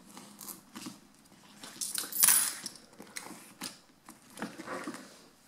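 Euro coins go into a savings envelope in a quiet room, a few soft metallic clinks and rustles with one brighter jingle midway, close by and otherwise hushed.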